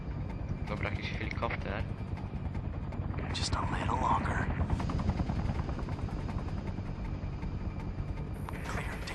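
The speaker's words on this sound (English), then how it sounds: "Enemy chopper" An enemy helicopter in Sniper Ghost Warrior 2 drones with a constant rotor rumble throughout, while radio voices talk over it and bursts of gunfire sound in the background.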